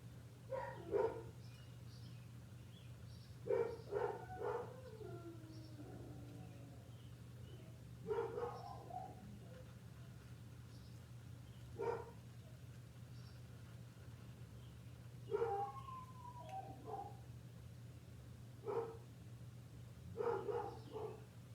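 Several dogs bark in short separate bursts every few seconds, distant and fairly quiet behind a steady low hum indoors, with a whimpery yip here and there.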